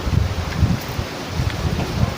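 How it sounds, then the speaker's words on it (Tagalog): Strong wind gusts through leaves outdoors on a suddenly cold, overcast day, coming as a steady rushing hiss with low buffeting thumps against the microphone. "Ayan oh, napakalakas ng hangin."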